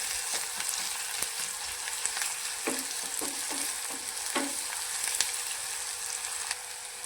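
Onion fries in a pan with ginger-garlic-coriander paste and curry leaves while a spoon stirs it, giving a steady sizzle. Scraping strokes and light knocks come through close by.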